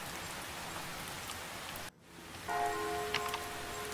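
Steady rain falling on umbrellas in a video game, a dense even patter that briefly drops out before resuming with a faint tonal layer beneath it.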